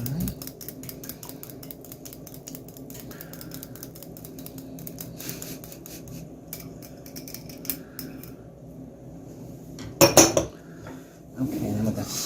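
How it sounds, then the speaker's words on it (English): Whisking a mixture in a bowl for rabbit stew with dumplings: a steady, rapid scraping and clinking rhythm of utensil against the bowl, close by, ending in a few louder clanks. "I'm going to whisk it together, and I'm going to make a mess."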